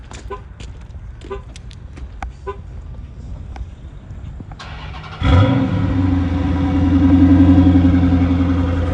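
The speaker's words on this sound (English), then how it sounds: "Let me give y'all a little cold start real quick." Dodge Charger engine cold-starting: a brief crank at about five seconds, then a loud, steady idle with a deep rumble that swells slightly, after some quieter background noise.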